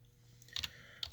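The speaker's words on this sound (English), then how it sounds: "I'm typing with one hand and trying to navigate the mouse at the same time" Typing on a computer keyboard, a few quick near clicks in two short bursts over quiet room hum, with no voice.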